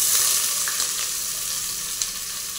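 Onion tossed into hot oil with whole spices for pavta masale bhat gives a steady, close, bright sizzle, with a few faint clinks over it and no voices.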